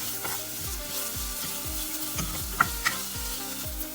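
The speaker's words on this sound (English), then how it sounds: "Once the oil is hot, we will add the onion into it. We will saute this in the oil for some time." Onion sautéing in hot oil for a Goan-style king fish curry: a continuous sizzle with regular scraping strokes in a steady rhythm and a couple of sharp metallic clinks near the end.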